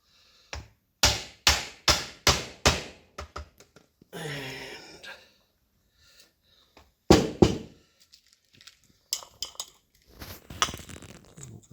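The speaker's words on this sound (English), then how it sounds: "or we can find a proper hammer and I'll drive that down" A quick series of sharp metallic hammer strikes driving a fork seal into a 1984 XR250 motorcycle fork at a steady rhythm, then a scraping pause and a few more heavy blows, close up.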